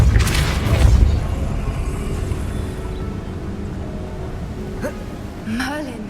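A Depulso spell cast in the video game Hogwarts Legacy, a loud booming burst at the start with rumbling low tail, followed by fainter effects and a short rising whoosh near the end.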